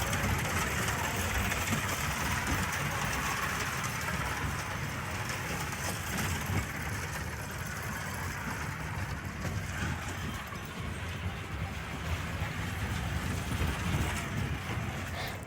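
Amusement park ride train at a Nepal fun park, a continuous engine drone and rumble with mechanical rattle throughout, steady and close, no talk.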